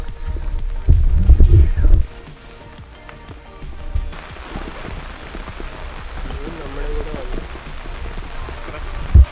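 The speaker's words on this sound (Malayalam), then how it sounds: "ഭയങ്കര മഴയാണ്" Heavy monsoon rain pours down at Green Valley Park in Belapur as a dense, even hiss, with low thumps and handling bumps near the microphone and faint voices mixed in.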